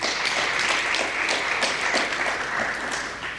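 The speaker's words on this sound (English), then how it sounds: "you may give her a round of applause" Steady applause from an audience at a school prize giving and valedictory service, many hands clapping densely and evenly at moderate loudness, tapering slightly toward the end with no talk over it.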